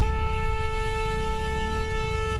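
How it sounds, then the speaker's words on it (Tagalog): An SUV's car horn blares in one long, steady, loud honk at a motorcycle on the road, traffic rumble underneath. "biglang pininahan ng sasakyan ang motorsiklo habang bumubusina"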